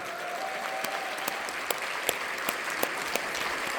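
Audience at a convention in a hotel ballroom breaks into steady applause, dense clapping filling the room with a few sharper individual claps standing out, no talking over it.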